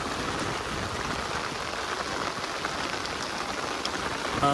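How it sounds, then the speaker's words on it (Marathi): Heavy monsoon rain hammers down in a flooded Konkan village in Sindhudurg, a continuous loud hiss, drops spattering on surfaces throughout. "पाऊस जोरात चालू झाला"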